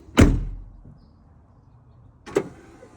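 A Ford F250 door being tested for its latch sensor, a sharp, loud door thud with a brief rattle, then quiet, then a second lighter clunk as it is worked again.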